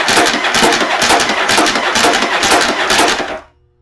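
Yamaha Virago XV750 motorcycle engine cranks on its electric starter with a fast, steady whirring chug, loud and close, then cuts off abruptly near the end.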